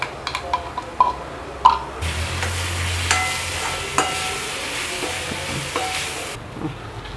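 Oil sizzles loudly in a pan as a thick ground paste is dropped in over frying onions for onion chutney, followed by steady stirring and scraping.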